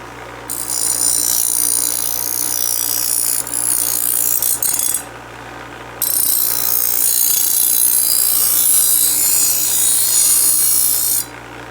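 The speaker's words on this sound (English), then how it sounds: "we have a dull scythe or whatever that is. Okay, we're gonna sharpen that bad boy." A dull, rusted scythe blade with nicks is sharpened: a loud, continuous rasping grind with hissy high texture, broken by two short pauses, heard close up with no talking.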